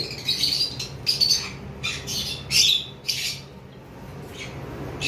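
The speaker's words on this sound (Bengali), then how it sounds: "আর লুটিনো ফিশার রেড আই লাল ঠোঁটের পাখিগুলো এখানে আমাদের কাছে রয়েছে" Lutino red-eyed Fischer's lovebirds in a seller's small flock give sharp, close squawks in several clustered bursts, then fall quieter toward the end.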